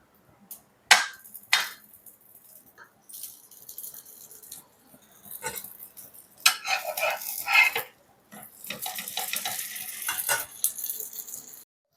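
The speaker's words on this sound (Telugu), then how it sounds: "ఇలానే మనం అన్ని బొబ్బట్లు కాల్చుకోవాలి" Khova bobbatlu flatbread roasts in ghee on a pan, with scattered clinks of a utensil against the pan and soft bursts of sizzling and scraping that come and go close by.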